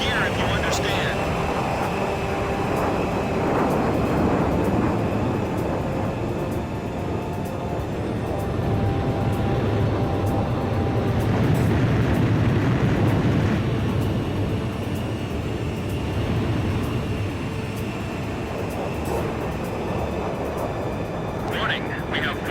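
A jet fighter's engine roars steadily in the Ace Combat 5 flight game, a continuous close drone that swells and eases, with radio voices talking over it.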